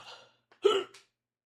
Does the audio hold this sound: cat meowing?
no